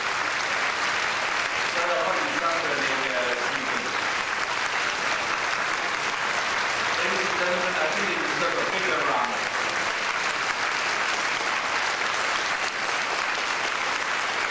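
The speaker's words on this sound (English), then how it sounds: "may I ask all the parents to stand up from your seats to receive a big round of applause" Steady, dense applause fills a speech day hall as the audience honours standing parents, with a few voices faintly audible beneath the clapping for most of the stretch.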